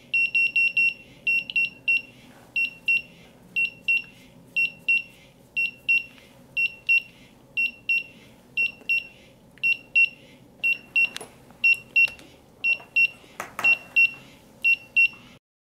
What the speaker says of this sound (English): Make sure the meter hits both high and low alarms